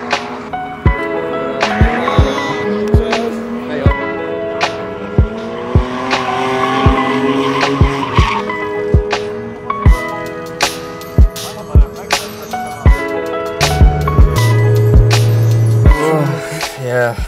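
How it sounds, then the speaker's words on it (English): Several cars drift beside a roadside petrol station, loud tire squeals and skids repeating over revving engines, with bursts of sharp screeching and a steady motor drone nearby throughout. "there is some drifting going on just next to it."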